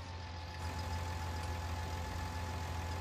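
A tractor engine in the Farming Simulator game runs steadily at idle, a constant low hum with a faint mid-range drone throughout and no talking.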